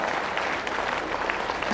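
Audience applause at a Ram Katha religious gathering in Salasar Dham, a steady dense clapping from a large crowd that keeps going through the whole moment with no voices on top.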